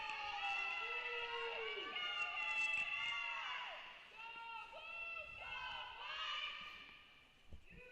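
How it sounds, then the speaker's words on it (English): Both teams cheer from the sidelines at a college women's tennis match between MTSU and UTEP. Overlapping high shouts and yells carry across the courts, rising and falling in waves, fairly faint and distant. "You can hear both teams cheering on the top court, cheering on their ones, their leaders."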